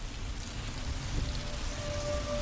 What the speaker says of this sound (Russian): как раз в середине пошел дождь